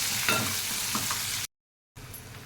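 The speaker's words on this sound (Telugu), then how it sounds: "కొద్దిగా వేగాలి." Mutton curry masala with green chillies frying in a pan, a continuous close sizzle with faint stirring, broken by a short silent gap before the sizzle resumes.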